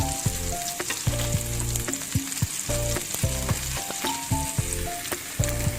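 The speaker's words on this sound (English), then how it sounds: "the butter is sizzling" Steady sizzling and frying hiss of butter in a pan while basting a cauliflower steak, with intermittent stirring scrapes and clinks throughout, no voices.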